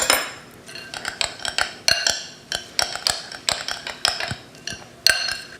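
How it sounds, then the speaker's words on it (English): Onions, tomatoes, cilantro and Himalayan salt stirred in a bowl, with a quick run of close, bright clinks and taps from a utensil against the dish. "a pinch of the Himalayan salt. and a quick little mix"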